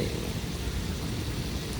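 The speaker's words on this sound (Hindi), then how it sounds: "गरज बरज की बारिश हो रही है।" Steady, dense rain pours down with a low rumbling underneath, a continuous wash of noise with no pauses or voices.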